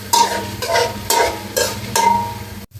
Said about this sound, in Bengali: তো কিছু পেঁয়াজ কুচি দিয়ে